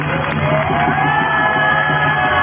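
Large street protest crowd clapping and cheering for care workers, a loud, sustained wash of applause with shouts and whoops rising over it.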